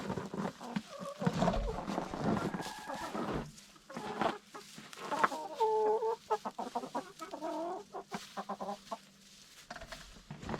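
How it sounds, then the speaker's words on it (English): Chickens clucking and calling nearby, scratching through seeds and pecking, with occasional louder squawks scattered through the busy scene, at an off-grid cabin in Alaska at -20F. "They're already scratching through it all down here"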